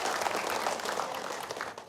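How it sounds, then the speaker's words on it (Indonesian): A live studio audience at an Islamic religious talk show gives a short burst of dense clapping. The applause sounds moderately loud and fairly even, then thins out near the end. "Tepuk tangan dong"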